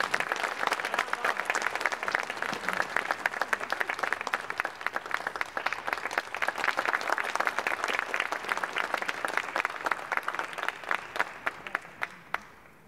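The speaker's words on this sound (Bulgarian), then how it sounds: "Аплодисменти." Audience at a choir concert applauds in a dense, sustained burst of clapping, many hands together, that thins out into a few scattered final claps.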